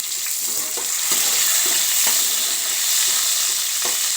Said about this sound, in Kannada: ಶುಂಠಿ, ಹಾಕಿದ್ದೀನಿ. ಈಗ ಸ್ವಲ್ಪ ಬಾಡಿಸ್ಕೊಬೇಕು.